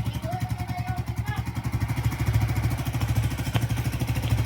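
A Suzuki GSX-R150 motorcycle engine runs after an engine refresh, idling in a steady, rapid, even thumping that stays close and loud throughout with a slight rise midway.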